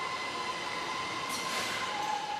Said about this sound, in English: They have their own train.